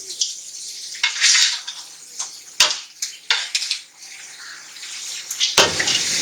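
Water is poured into a metal pot while making mutanjan, a sweet rice dessert, in a home kitchen, with splashing bursts and clinks of pot and utensils close by.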